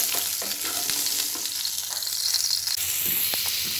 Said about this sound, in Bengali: দিয়ে খুব ভালো করে পটলগুলো আমি ভেজে নেব।